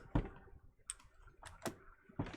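Typing on a computer keyboard, a few scattered soft key clicks and taps in quick small groups, close and faint with no talking.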